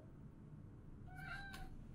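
A house cat meows a few times from behind a closed door, the tonal cries faint and somewhat distant over a steady low room hum.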